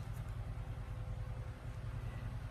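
Low engine drone of motorized tricycles on an early-morning road, a steady idling rumble that stays faint and distant with no clear pass-by peak.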